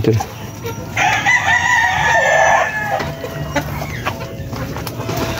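On a farm, a rooster crows loudly and at length close by, while hens and young chicks cluck and peep around it in an irregular farmyard chorus.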